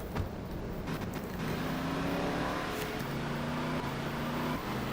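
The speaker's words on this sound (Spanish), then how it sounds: "Vamos a subirnos a un carro para ver qué tanto funciona." Car engine in GTA Vice City on a low-spec PC, a steady droning hum with rising and shifting engine tones as the vehicle drives, continuous and moderately loud.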